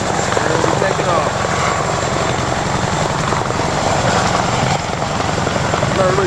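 Military helicopters of the 101st Airborne Division (Air Assault) preparing for takeoff in 1999, their rotors and engines roaring loud and close in a continuous rhythmic chop that never lets up.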